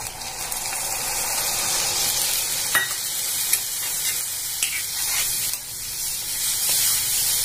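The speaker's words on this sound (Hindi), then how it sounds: "अब पहले हम इसमें ये दूध डालेंगे" Milk poured into a hot pan for potato halwa, giving a loud, steady hissing sizzle that runs throughout, with a few faint clinks of utensils near the close.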